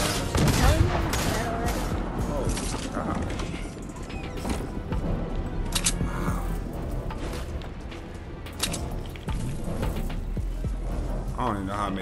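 Gunfire fills a Fortnite squads match: dense, rapid bursts of shots and impacts, loud and close, with scattered crashes and other game effects throughout.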